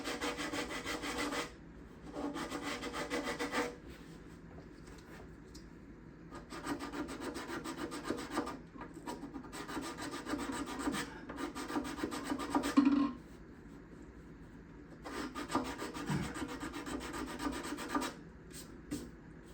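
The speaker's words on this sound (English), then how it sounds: "I got to be careful that when I'm scraping and sanding that I don't tilt the blade" A blade scrapes and sands the back-side bindings of a guitar in close, repeated bursts of rasping strokes separated by short quiet gaps.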